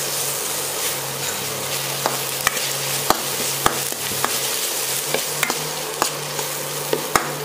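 Curry leaves and tomatoes sautéing in a pan for a koorkka masala curry, a steady hiss broken by sharp repeated scrapes and taps of a spoon against the pan, no talking.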